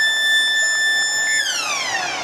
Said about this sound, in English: Half-time siren goes.